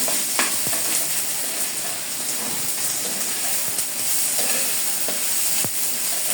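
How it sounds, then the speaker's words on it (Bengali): Ginger-garlic paste fries in a pan with a dense, continuous loud hiss and sizzle, a few sharp clicks of a utensil against the metal scattered through it. "আদা রসুনের পেস্ট পেস্টটাকে ভালো করে একটু ভেজে নেবো"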